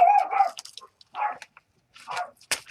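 Neighbours' dogs bark next door in short, uneven bursts with gaps between them, fairly close and sharp, with no talking over them.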